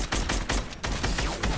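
Rapid, dense video game gunfire crackles in loud, continuous bursts over a short span, with no one speaking.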